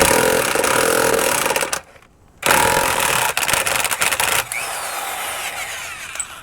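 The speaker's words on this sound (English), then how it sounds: "You're going to need a 35mm socket for the secondary, just like so. And I use an impact because an impact works very well." A power impact wrench fitted with a 35mm socket works the secondary clutch nut on a CFMOTO, giving loud, sustained buzzing bursts with a brief pause before running again.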